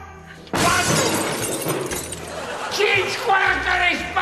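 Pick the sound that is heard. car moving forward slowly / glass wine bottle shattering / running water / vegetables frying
glass wine bottle shattering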